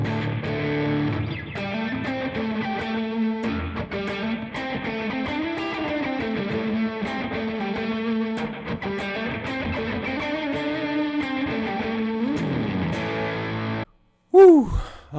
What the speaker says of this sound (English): I sure do love that distortion pedal.